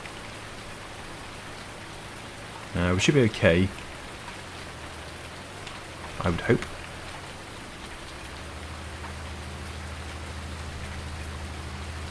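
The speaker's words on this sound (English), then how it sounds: "it has been raining solidly for maybe" Steady rain hiss from Farming Simulator 19 during a wet poplar harvest with tracked machinery, continuous and even, with someone speaking briefly over it twice.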